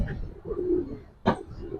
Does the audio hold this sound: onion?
no